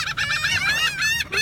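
Harsh, repeated seagull calls squawk loudly and close by, a string of raucous cries lasting over a second with little pause.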